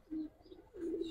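Pigeons, including single males and females of the Chila breed, give soft low coos in two short phrases, faint and close, with no voices over them.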